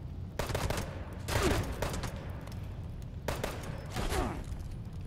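Pistol shots ring out in the video game Fallout 76, several sharp reports in two loose clusters over a steady game background, close and loud.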